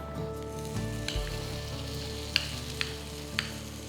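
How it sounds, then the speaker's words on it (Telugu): Ground ginger chutney fries in oil with curry leaves, a low, even sizzle running throughout, broken by a few sharp clicks and pops near the end, with no one speaking. "ఇప్పుడు మనం రుబ్బి పెట్టుకున్న అల్లం పచ్చడి దీంట్లో వేసేద్దాం"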